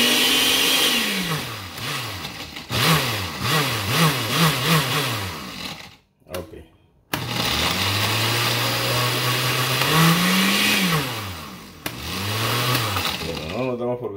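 Blender whirring through a cheese dessert mixture, loud and close, its motor pitch rising and falling in pulses, briefly stopping and then running again.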